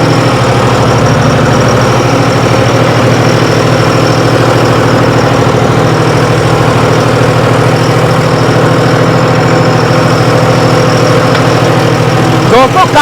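A tractor engine running steadily with a rotavator attached in a farm field, a loud, close, even diesel drone with throbbing low harmonics throughout and a brief rattle near the end.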